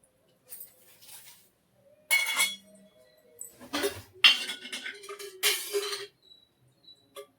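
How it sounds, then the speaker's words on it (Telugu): A metal kadai is set down on a home stove while cooking spicy chicken biryani. A few sharp, close clinks and scrapes of metal come in separate bursts, with quiet gaps between them and no talking. "ఫస్ట్ స్టవ్ అనేది ఆన్ చేసేసి మనం ఏదైతే కర్రీ చేద్దాం అనుకుంటున్నామో ఆ కడాయి అయితే పెట్టేసుకొని"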